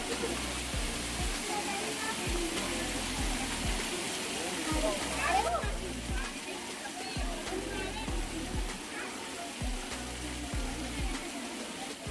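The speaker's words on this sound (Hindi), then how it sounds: "तेज बारिश की आवाज़" A constant dense hiss of fountain water falling and splashing, like heavy rain pouring down, with faint voices underneath, at Saheliyon ki Bari gardens in Udaipur, Rajasthan.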